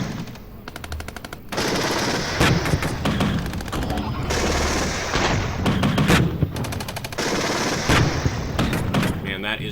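Gepard anti-aircraft vehicle in the war game Regiments firing its twin cannons in rapid bursts, loud and close, with repeated rattling volleys and heavier booming shots layered over battlefield noise.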